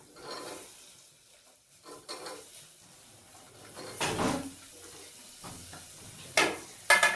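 Cauliflower is tipped into a pan of cooking masala, giving quiet sizzling under scattered stirring scrapes, then a few louder clattering bumps of utensil against pan toward the end, all close.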